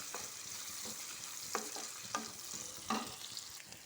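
Onions sizzle and fry in a pan, with a spoon scraping and stirring a few times; no one speaks.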